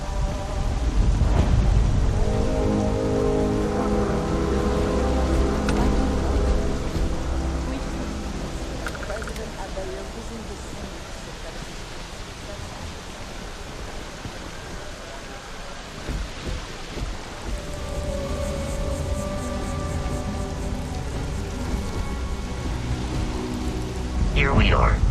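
Heavy rain pours down with rolling thunder in Starfield, a steady broadband hiss of rainfall over low rumbles, mixed with a sustained tonal background that fades somewhat midway before swelling again.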